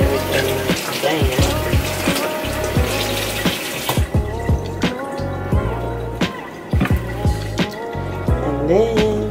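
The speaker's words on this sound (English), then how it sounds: "I like to rinse it off just to make sure that it's all clean" Tap water runs steadily into a kitchen sink while raw chicken is rinsed for an enchilada casserole, with a continuous splashing rush broken by occasional knocks and clunks.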